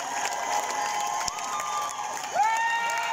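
An outdoor festival crowd at a live concert cheers and applauds, with whistles and shouts rising over a steady roar of clapping, moderately loud and continuous.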